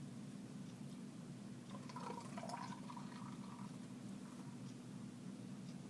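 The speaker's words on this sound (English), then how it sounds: "I tried to be aggressive with my pour there." Ipswich IPA beer poured aggressively into a glass gives a soft, steady liquid gurgle, quiet and continuous, with a brief busier splash partway through.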